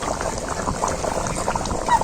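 A thin mutton broth bubbles in a pot, a soft irregular gurgling and popping of boiling liquid that carries on at a steady low level throughout.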